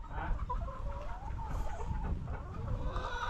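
A rooster crows close by, a loud, drawn-out call with rising and falling pitch, followed by a second, shorter crowing phrase over a low background rumble.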